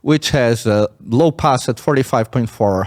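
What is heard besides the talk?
No everyday noise stands out behind the speech.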